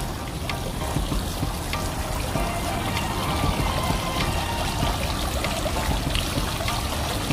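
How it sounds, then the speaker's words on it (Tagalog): Water from a fountain outside Wafi Mall in Dubai splashes and pours continuously, a steady, fairly close rushing trickle with no voices. "Ang ganda ng fountain niya dito."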